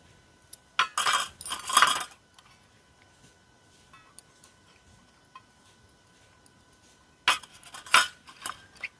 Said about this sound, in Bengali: তো এবার এই বাটির মধ্যে আমি তেল ব্রাশ করে নেব